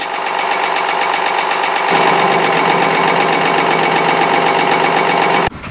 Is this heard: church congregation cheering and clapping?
no